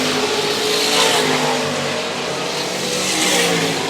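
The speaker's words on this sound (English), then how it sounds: "The roar, the speed, the sounds here on CRN, the sprint cars." Sprint cars roar around a short dirt oval at Harris Speedway during a Saturday night race, a loud, continuous engine drone that swells and fades as cars pass, with no voices over it.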